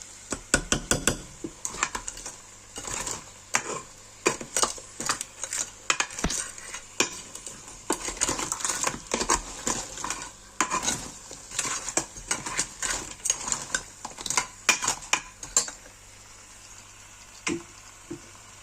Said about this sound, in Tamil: அந்த மசாலாவோடு சேர்த்து இதை நல்லா வதக்கி விடணும்.